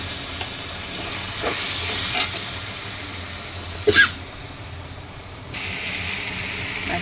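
Mutton chukka sizzles and fries steadily in a pan as gravy is poured in, a close, continuous hiss with a couple of short stirring scrapes and a brighter burst of sizzling.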